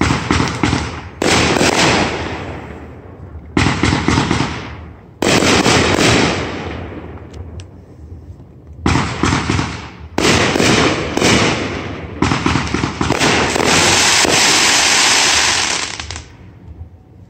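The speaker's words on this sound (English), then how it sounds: "sitting outside watching my neighbors do fireworks." Neighbors' fireworks pop and crackle in rapid, dense bursts outdoors, loud and sustained with short gaps between volleys.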